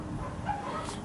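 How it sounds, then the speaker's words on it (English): Dogs bark and whimper faintly in the background near a worn-out generator, a brief low yip barely rising above steady background noise. "Don't mind the dogs."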